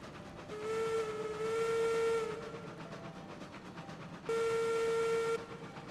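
A video game steam locomotive whistle blows twice in a railroad yard, a long sustained tone that bends slightly, then a shorter second blast, over a steady rumbling hiss of engine noise.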